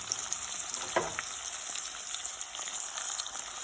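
Cashews fry in oil in a pan for paneer butter masala, giving a steady close-up sizzle with faint crackles throughout.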